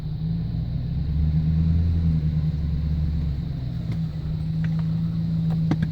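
A GMC truck engine runs steadily in reverse with a low, even rumble close by, joined by a few faint clicks and taps near the end, with no speech.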